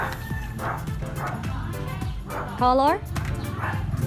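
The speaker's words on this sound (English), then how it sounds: "There's a dog." A dog yips and barks briefly in the distance during an outdoor neighborhood egg hunt, a short high call rising above steady background noise while people talk over it.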